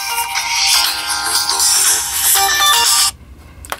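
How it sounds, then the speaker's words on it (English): Samsung Galaxy Note 4 smartphone in an LED flip wallet case sounds its alarm notification, a loud, bright repeating electronic tone for about three seconds that cuts off abruptly, followed by a faint click. "this is an alarm notification"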